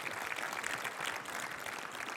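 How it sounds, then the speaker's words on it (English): Conference audience applauding a speaker: dense, steady clapping from a room full of people, even and sustained at a moderate level without voices. "Let's all give him a round of applause."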